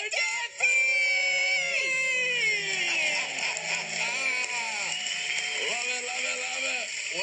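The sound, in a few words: debt-free scream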